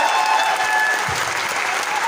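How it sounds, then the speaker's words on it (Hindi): An audience at an RCM World event in Bhilwara applauds continuously, a dense, loud wash of clapping from a crowd filling the whole stretch. "एक बार सर के लिए जोरदार तालियां होनी चाहिए।"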